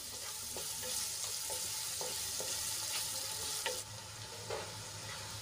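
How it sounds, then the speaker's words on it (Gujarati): Finely chopped onions frying in a pan, a steady sizzle with occasional soft stirring clicks and scrapes, continuous and close with no talk. "ડુંગળીને આપણે ગુલાબી રંગની થાય ત્યાં સુધી સાંતળી લેવાની છે"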